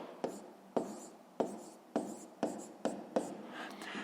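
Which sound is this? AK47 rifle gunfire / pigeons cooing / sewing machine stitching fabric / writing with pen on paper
writing with pen on paper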